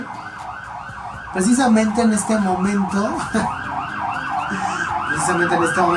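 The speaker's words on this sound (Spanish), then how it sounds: "tendría que pasar una ambulancia aquí enfrente" Ambulance siren passing outside in the street, its wailing tone rising and falling steadily at moderate distance beneath someone speaking Spanish indoors, swelling louder partway through.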